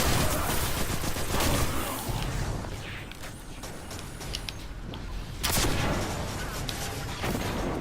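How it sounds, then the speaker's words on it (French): Automatic rifle fire in the video game Destiny 2, a loud sustained stream of rapid shots with bursts and booms, continuing almost without pause throughout with a brief dip midway. "c'est trop bien d'avoir un fusil automatique les mecs"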